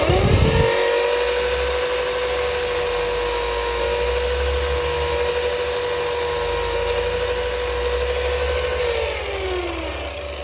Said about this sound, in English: while I've got the buffing wheel loaded in here, I just